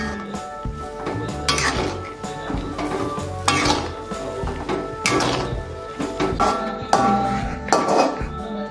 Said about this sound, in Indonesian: Kita aduk lagi sampai garam dan kaldunya tadi merata.